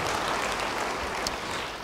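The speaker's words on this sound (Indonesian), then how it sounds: "beri tepuk tangan yang baik bagi dia" A church congregation applauds briefly, a short, fairly quiet patter of many hands clapping under the room's reverberation, fading slightly as it ends.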